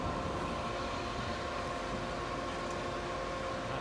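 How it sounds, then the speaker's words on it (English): Boat bilge pump motor with worn bearings, running as a steady, loud rough whir with a faint tonal whine, continuous and unchanging, close by and with no talk. "That pump needs a new set of bearings, or rather the motor needs a new set of bearings. Not sounding fantastic."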